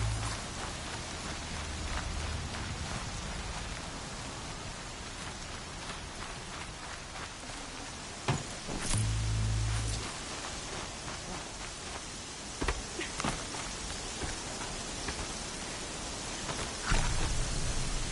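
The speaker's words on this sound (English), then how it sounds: "Rain's too loud to hear much." Heavy rain in Horizon Zero Dawn pours down as a steady, dense hiss of drops on surfaces, loud and continuous throughout, with a few brief low thumps and louder splashes near the middle.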